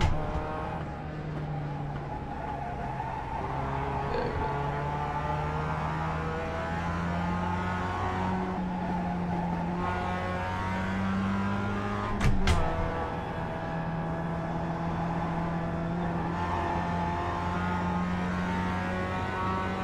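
Mazda MX-5 race car engine in iRacing holds a steady, loud drone through the lap with smooth rising and falling revs, a brief sharp knock or bump around the middle, no talk.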